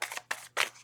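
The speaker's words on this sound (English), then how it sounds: "One more shuffle." Tarot cards being shuffled by hand, three quick crisp riffling bursts close by with brief pauses between, quiet and alone.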